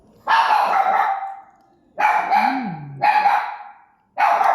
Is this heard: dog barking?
yes